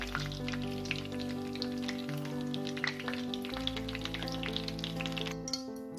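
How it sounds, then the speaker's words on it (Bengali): Fish kabiraji, a Kolkata street-food snack, frying in oil over a medium gas flame, a soft crackling sizzle with scattered pops set beneath steady sustained background music. "এবার গ্যাসের ফ্লেমটাকে মিডিয়াম করে দিয়ে আমাকে এটাকে ভেজে তুলে নিতে হবে।"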